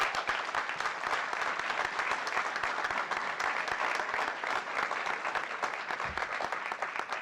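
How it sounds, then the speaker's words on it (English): An audience applauds an advocacy team at an Illinois criminal justice reform bill signing, with steady sustained clapping throughout, moderately distant and even. "Please give them another round of applause."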